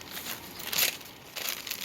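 Brief crinkling of a paper receipt being crumpled, two short papery bursts close by in a quiet room.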